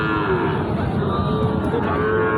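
A cow moos at a busy cattle market where Sahiwal-type cattle are being traded, a sustained low lowing that fills the whole moment against a dense crowd murmur.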